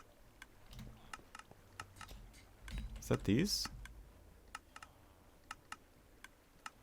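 Droppers in a dark Minecraft Bedrock survival base give off a run of small, evenly spaced clicks under quiet background sound, while a voice speaks briefly partway through.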